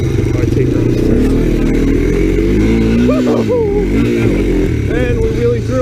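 An ATC three-wheeler engine drones loudly and continuously while taking a turn in snowy winter conditions, its pitch rising and falling with throttle, with a voice talking over it.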